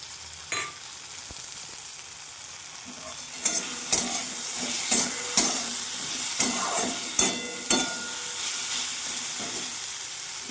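Spices frying with half a spoon of chili powder for a Bengali poppy-seed stalk dish: a steady sizzle with sharp scrapes and taps of stirring that grow more frequent halfway through, close up, with no voices.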